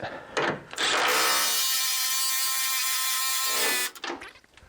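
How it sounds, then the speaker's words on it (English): A power tool tightening a nut whirs in one sustained burst of about three seconds, loud and close, with brief clicks and handling noises before and after. "Gotta love a power tool."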